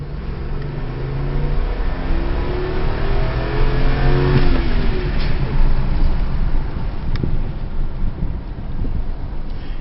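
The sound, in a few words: 2005 Dakota V8 truck engine accelerating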